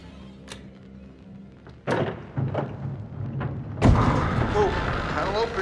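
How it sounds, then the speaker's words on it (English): A secret panel in a video game slides open behind a bookshelf, a heavy thunk followed by a loud rumbling scrape and shifting clatter that fills the last couple of seconds, after a few softer knocks. "Oh, panel opens."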